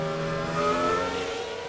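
A 2001 Williams BMW Formula 1 race car at the Brazilian Grand Prix, its engine a steady high-pitched whine held at high revs, continuous and fairly even, with no voices.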